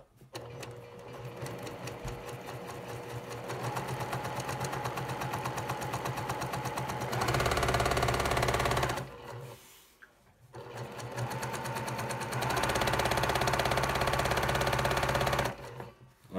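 A sewing machine runs in steady bursts of rapid mechanical stitching, pausing briefly twice before starting up again, close and even.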